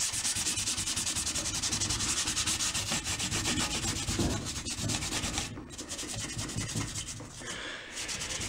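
A metal top surface is rubbed and polished by hand with a spray lubricant, giving a steady, loud, close scrubbing rasp that keeps going with small dips in intensity.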